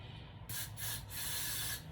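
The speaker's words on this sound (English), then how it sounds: "Don't spray it in your ear, but go on your hairline, right at the edge, and just spray" Wig adhesive spray hisses from an aerosol can along the hairline, three short close bursts with brief pauses between them, the last one held longer, over a quiet room.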